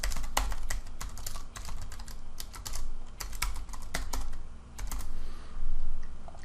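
Typing on a computer keyboard to enter a journal name in accounting software, a steady run of close, crisp key clicks in quick bursts with short pauses, no talking.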